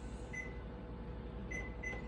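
A kitchen timer is keyed in for baking sourdough, giving short faint electronic beeps over a low steady hum of background noise.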